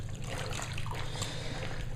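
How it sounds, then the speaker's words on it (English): Water runs steadily from a tap into a sink, a continuous close trickling and splashing with no voices. "The water just keeps running blue"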